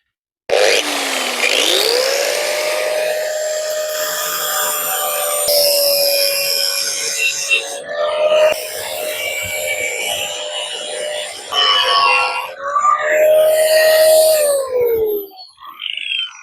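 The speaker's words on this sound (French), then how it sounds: "je vais essayer de meuler la tête de vis et de percer un peu le filetage pour libérer la vis." An angle grinder cuts into the head of a seized screw, with a loud sustained whine that holds one steady pitch, then dips and climbs as the disc bites and eases off, with a few brief pauses in between.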